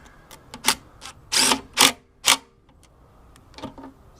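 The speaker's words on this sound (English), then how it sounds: "I'll grab my socket set and just run that 30mm nut up." A socket set ratchet runs a 30mm nut onto a scrapped lawnmower, giving a few separate metallic clicking bursts, close by, spaced unevenly with short pauses between them.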